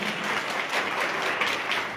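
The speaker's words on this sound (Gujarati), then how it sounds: "એના માટે એક જોરદાર તાળીઓ એના માટે થઈ જાય." Audience at a Koli community rally in Talaja clapping together, a dense, loud burst of applause that fills the whole brief moment.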